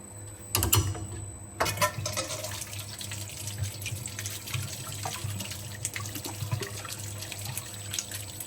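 Brewing wort pours steadily from a kettle's bottom outlet during transfer, a continuous splashing, trickling flow with a low hum beneath and a couple of louder gushes near the start.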